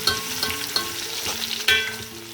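Garlic and ginger fry with lightly browned onion in a pan for green chickpea pulao: a constant close sizzle with a few scraping stir strokes and bursts of crackle, and no voices.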